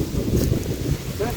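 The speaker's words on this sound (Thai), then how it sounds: "ลมพัดเย็นดี" Wind gusts blowing steadily across open rice fields, buffeting the microphone with a low, rumbling roar that swells and eases without pause.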